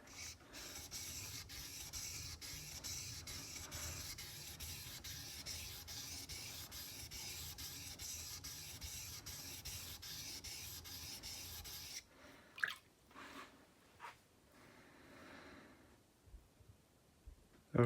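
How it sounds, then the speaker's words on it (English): A sloyd knife blade is drawn steadily back and forth across a sharpening stone, giving a continuous close scraping rub for about twelve seconds, followed by a few short, separate strokes and handling noises. "You keep it really 90 degrees to your stone, just back and forth"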